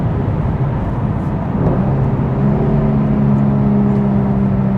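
A Nissan 350Z engine pulls steadily in gear from inside the car, a loud constant drone with a rising tonal whine and road rumble underneath, and no voices.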